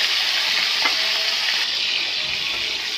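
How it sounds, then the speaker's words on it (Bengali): Prawns coated in salt and turmeric frying in hot oil in a wok, a loud, steady hiss of sizzling with a few faint stirring clinks beneath it. "চিংড়ি মাছটা মাখিয়ে এই তেলের মধ্যে ভেজে নিন"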